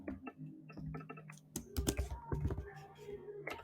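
Rapid irregular clicking of keys typed on a laptop keyboard, close and fairly loud, in bursts with brief pauses.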